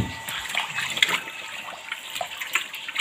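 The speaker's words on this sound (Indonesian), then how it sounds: "Ini lagi dimasukkan pakaiannya ya, airnya juga." Water pouring into a Toshiba VH-H95MN 9 kg twin-tub washing machine loaded with clothes, a steady close hiss and splash of filling with small sloshing bursts.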